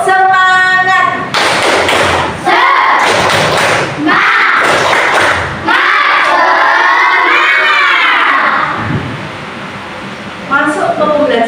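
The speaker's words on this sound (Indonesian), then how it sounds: "Tepuk semangat." Classroom of children doing a rhythmic spirit clap, loud close bursts of clapping and thumps alternating with chanted, shouted voices in a lively group routine that shifts pace and then quiets near the end.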